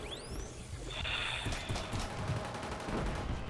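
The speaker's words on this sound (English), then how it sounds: "I'm murdering some people with a shotgun" Shotgun fire in the online multiplayer game Killzone Shadow Fall, a rapid burst of close, loud blasts amid steady game noise, with a whooshing sweep at the start and no voice.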